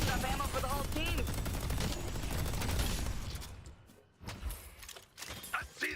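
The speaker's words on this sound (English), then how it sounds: "Oh my god, the turret shredded him!" Rapid turret fire in the Deadlock video game, a dense stream of gunshots for about three seconds, then sparser scattered shots and impacts amid game noise.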